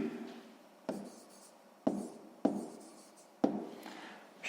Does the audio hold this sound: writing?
yes